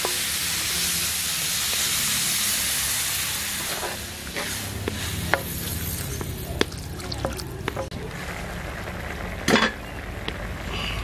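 Beef dinuguan simmering in a pot with lemongrass, giving a steady hiss and sizzle throughout with scattered sharp pops and spits, one louder crackle burst near the end.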